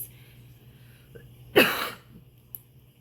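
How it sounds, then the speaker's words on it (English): A single sharp cough bursts out against quiet background, brief and fairly close. "My coughing has gotten ridiculous."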